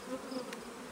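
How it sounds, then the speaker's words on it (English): Honeybees buzz around honey boxes at a hive, a close, steady drone with small wavering pitch shifts as individual bees pass, heard alone without talk. "the bees find us a lot quicker"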